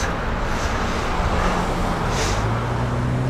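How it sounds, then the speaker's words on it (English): Constant roar of nearby highway traffic, tire and engine noise blending into a steady wash, with low engine drones passing close by. "the sound of a highway going on right next to them"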